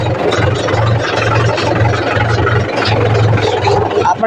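A tractor engine runs steadily nearby with a low, rhythmic diesel throb and some rattling, heard alone without talk.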